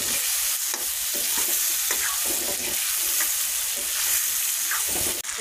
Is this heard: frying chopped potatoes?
yes